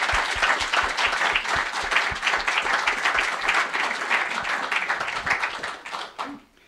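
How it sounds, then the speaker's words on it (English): Audience at a peace partnerships celebration concert giving a full round of applause, dense continuous clapping that holds steady and then fades out at the end. "if we could just give them both a round of applause"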